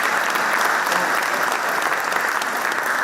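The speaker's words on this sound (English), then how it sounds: "Can we give ourselves a round of applause for that?" Applause from delegates at a high-level Human Rights 75 event at the UN in Nairobi: a steady, full burst of clapping from a large room that holds evenly throughout, with no talk over it.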